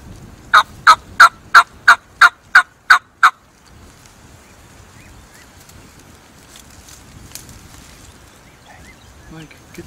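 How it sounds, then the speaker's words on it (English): Wild turkeys gobbling on a hunting property in Iowa: a rapid burst of about eight loud, close, rhythmic gobbles, followed by quiet outdoor ambience with faint distant bird sounds. "Little do we know, on this new piece of property, there were a lot of turkeys."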